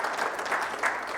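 Brief audience applause at a corporate performance master class held by a motorsport racing team, a short, steady burst of many hands clapping at moderate volume.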